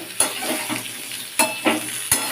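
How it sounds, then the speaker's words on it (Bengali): Potatoes fry in oil in a pan as a spoon stirs them. A constant sizzle runs underneath, and three or four sharp scraping strokes of the spoon break through it at uneven intervals. "সেটাকে দিয়েও আলুর সাথে আর তেলের সাথে একটু নাড়াচাড়া করে নিলাম"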